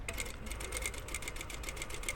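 A sewing machine runs steadily, close and loud, pin-stitching along the fabric edge of a patch pocket after a back tack at the top corner, with a fast, even stitch rhythm and no talking.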